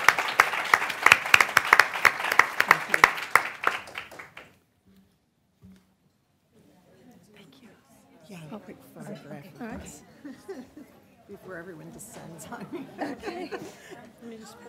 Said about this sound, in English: Let's give you a round of applause for making this happen.